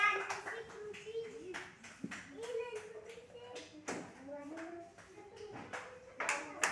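A group of children in a classroom clap for a classmate in scattered, uneven bursts while an adult teacher talks over them.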